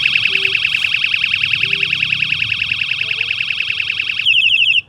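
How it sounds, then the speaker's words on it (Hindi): A bicycle's electronic horn blares a loud, rapidly warbling electronic tone close by, then switches to a different pulsing pattern near the end before cutting off. "और जो हॉर्न है वो देखना आप"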